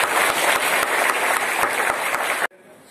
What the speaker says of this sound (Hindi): जोर से एक बार तालियों से धन्यवाद।